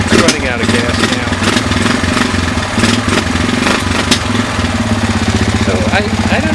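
A Kawasaki Lakota ATV engine, smoking and low on gas, idles close by with a steady throbbing rumble and light ticking valve clatter, while someone talks over it.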